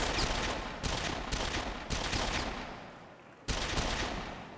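Gunfire from a first-person shooter video game demo shown at a press event: several loud, sharp bursts in quick succession, each decaying before the next, with no talking.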